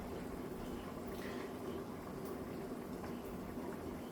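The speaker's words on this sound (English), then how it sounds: "this is coming to a full boil already, as you can see" A pot of water with vegetables at a full rolling boil on a stove, steady dense bubbling and churning close by, continuous and even throughout with no voices.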